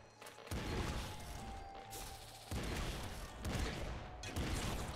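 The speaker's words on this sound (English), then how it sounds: "Hit myself there with a rocket" In the video game Nuclear Throne, a rocket explosion strikes the player: repeated heavy blasts and crashing bursts hit about every second or two over dense, loud game noise.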